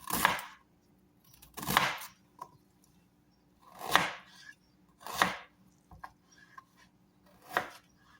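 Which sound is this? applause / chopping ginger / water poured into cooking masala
chopping ginger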